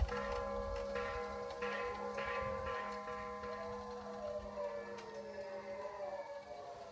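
A bell struck at the Phu Dan Luang Buddhist site rings with layered, sustained metallic tones, several strikes blending into a long humming decay over steady low background noise.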